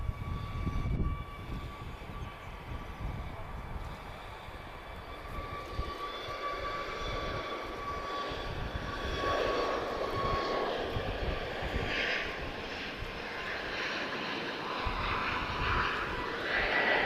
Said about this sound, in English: Thomas, your ATR seems to have started its engines